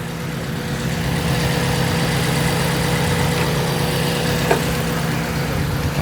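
A B16 car engine idles at an old-school car club meetup, giving a steady, continuous rumble with a constant low hum that stays close and even throughout.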